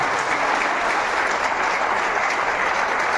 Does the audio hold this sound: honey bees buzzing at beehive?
no